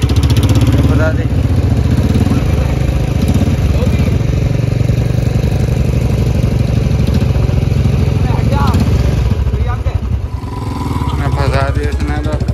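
A Royal Enfield Bullet 350 engine stuck offroad runs loud and close, a steady thumping chug that holds throughout and revs up near the end, while people talk over it.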